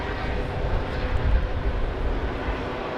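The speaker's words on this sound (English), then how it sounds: "the emergency services and helicopter above me have been here all day" A helicopter hovers overhead with emergency services at the scene after a stabbing outside a Manchester synagogue on Yom Kippur, producing a steady, fairly loud low rumble and roar throughout.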